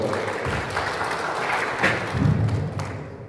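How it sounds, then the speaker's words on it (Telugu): An audience at a first anniversary celebration in Jagtial applauds during a ceremony honouring a guest with a shawl, a dense, loud burst of clapping that continues steadily throughout. "అందరూ ఒకసారి చప్పట్లు కొట్టారు"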